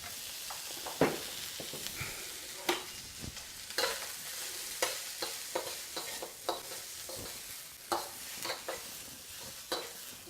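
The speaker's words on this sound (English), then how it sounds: "So I'll just put that in my wok, and they say to stir fry it until the onions are kind of soft." Onions sizzle and spatter in a hot wok while a utensil scrapes and clatters in an irregular stir-frying rhythm, close and continuous.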